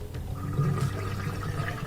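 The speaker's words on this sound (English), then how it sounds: "it'll drain all the water out and also reset the" Water drains from a Bosch dishwasher during a reset, a steady gurgling, low rushing flow heard close up and alone for a couple of seconds.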